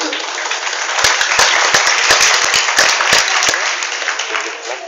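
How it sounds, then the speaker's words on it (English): An audience claps in a dense, steady burst that lasts several seconds, loud and close, with a few sharper individual claps standing out near the middle. "Clap for them."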